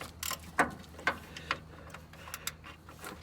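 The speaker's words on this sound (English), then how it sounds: "You only get a little bit at a time. You know, a fifth of a ratchet turn or so." Close ratchet clicks from a socket wrench turning a starter bolt on a Ford Mustang or F-150, heard as a few short, separate ticks spaced about half a second apart against a quiet background.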